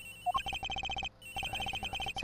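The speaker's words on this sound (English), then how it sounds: "The ringing's coming from somewhere in here" In the Ace Attorney Investigations video game a mobile phone rings, a rapid electronic ringtone of quick repeated beeps in two bursts with a short gap between, clear and fairly loud.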